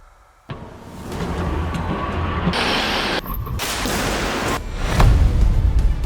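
A Changan CS75 Plus takes a rear-end crash test, a sudden loud impact followed by sustained roaring, rushing noise and another heavy surge near the end, with no talk.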